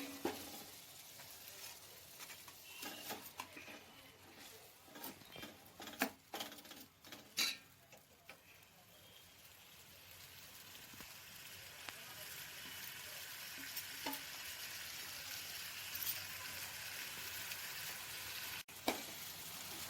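Chicken pieces dropped into a pot with coriander and mint for chicken biryani, sizzling and frying steadily with stirring and scattered clicks, with a continuous hiss under the ticks and knocks.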